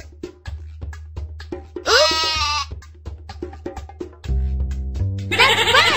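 A goat bleats loudly with a wavering, nasal cry, followed by another bleating call after a short pause, with soft clicks and a low hum underneath.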